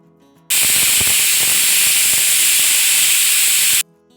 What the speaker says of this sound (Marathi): आता आपल्याला याला कुकरमध्ये लावून शिट्ट्या करून घ्यायच्या आहेत